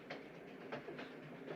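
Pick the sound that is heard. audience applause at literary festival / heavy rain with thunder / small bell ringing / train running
train running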